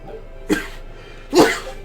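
Two sharp, breathy bursts about a second apart, a sneeze, the second one louder and longer, with quiet background otherwise, in the video game Tales of Berseria.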